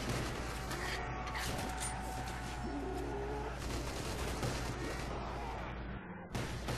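Rapid pistol shots in a zombies video game, dense bursts of sharp cracks over game effects and background noise, continuous and loud until a brief drop near the end.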